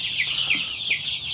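Hens clucking on a pasture farm, golden layers among white Cornish cross meat birds, a close, continuous run of cackling and clucks with no talk.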